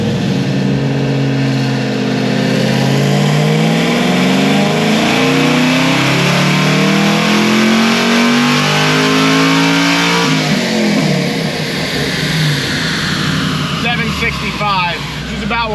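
Tuned car engine on a dyno power run, revving hard with a rising pitch for about ten seconds, then dropping off as the throttle closes, loud and close throughout.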